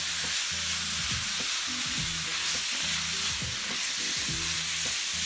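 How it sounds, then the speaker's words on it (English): Ground meat frying with paprika in a pan for sandwiches, stirred with repeated scraping strokes over a steady close sizzle. "Give this another stir."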